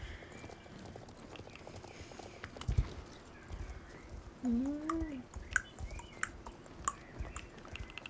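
Video game horse hooves clip-clop in an irregular walking rhythm amid soft ambient noise, with a brief whinny-like rising call in the middle.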